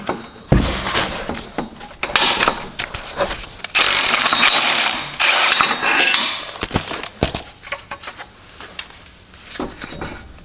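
A wrench working bolts on the front driveshaft of a BMW E90 328xi all-wheel-drive car, with repeated close metallic clanks, ratcheting rattles and tool knocks in irregular bursts.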